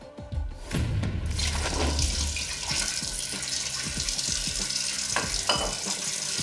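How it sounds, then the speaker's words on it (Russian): Dishes being washed at a kitchen sink under a running tap, a steady close rush of water with clinks and scrapes of crockery throughout. "Золушка, всю посуду намыла"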